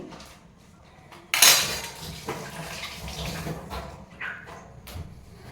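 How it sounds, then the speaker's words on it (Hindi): Dishes, pots and cutlery being washed and scrubbed by hand at a sink with water running, close up, with clattering metal, splashing and scraping spread through the whole clip. "फिर आज मैं बर्तन मांजती हूँ"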